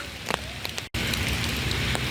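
Steady rain pattering down across an open park on an autumn day, a continuous close wash of drops with a few brighter ticks, briefly cutting out before resuming at the same even level.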